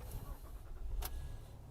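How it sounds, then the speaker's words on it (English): A Honda car engine cranks and starts with a brief loud burst, then settles into a low steady idle rumble, heard up close after a key is turned following a no-start problem. "Car starts."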